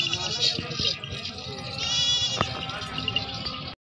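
A goat bleating at a crowded livestock market, with wavering, nasal calls rising over dense background chatter and clatter; voices of people talking run throughout.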